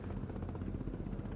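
In the Broken Arrow video game, a helicopter drones with a dense, steady rotor rumble and whine that stays constant and fairly loud throughout, with no voices.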